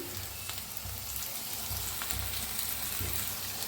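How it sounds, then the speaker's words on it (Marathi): Onion, green chilli, garlic and peanuts frying together in a pan, a soft, steady crackling sizzle like light rain, fairly quiet and continuous, with no voices. "भाजून घेऊया छान असं त्याला भाजून घेऊया"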